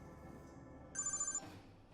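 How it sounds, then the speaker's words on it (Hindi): A telephone rings after a call is placed, a short burst of bright trilling ring tone lasting under half a second, clear and close with no talking. "धनराज को फोन करते हैं।"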